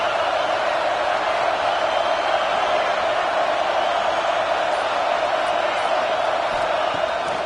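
A packed stadium crowd at a football game roars steadily and loudly, a continuous wall of cheering with no breaks throughout.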